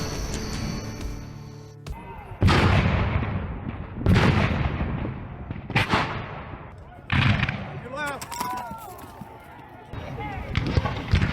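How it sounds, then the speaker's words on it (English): Heavy booming blasts of artillery and gunfire, several bursts spaced a second or two apart, with rumbling echoes and chaotic noise between them. "Sometimes you can even hear the gunfire in the distance."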